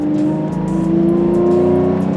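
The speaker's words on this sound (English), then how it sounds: "That engine, that exhaust, that V12, so mechanical." A 2003 Lamborghini Murciélago with its manual V12 revs up close and loud, a smooth mechanical engine note climbing steadily in pitch with exhaust rasp over two seconds.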